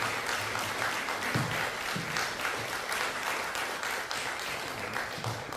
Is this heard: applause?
yes